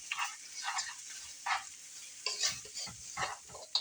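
Food frying in a pan while being stirred during home cooking, giving a steady faint sizzle broken by repeated short scraping stir strokes, with no talking.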